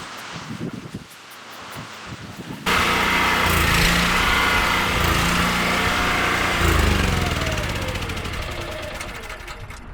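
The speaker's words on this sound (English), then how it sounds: "Pressure washer surging a bit, didn't sound great." Petrol pressure washer engine starts up abruptly and runs loud and close, its drone rising and sagging unevenly as it surges, staying strong for most of the stretch before easing slightly.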